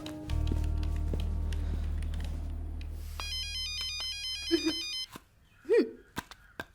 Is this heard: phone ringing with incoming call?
yes